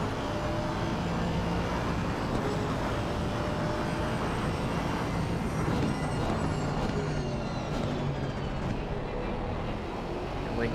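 A BMW race car's engine drones from an onboard view during an endurance race at Imola in a racing sim game, a steady, monotonous hum with faint shifting tones, continuous and moderately quiet.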